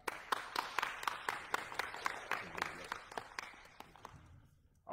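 A church congregation at a Sunday fellowship gives a brief hand clap, a scattered run of sharp claps that thins out and fades within a few seconds.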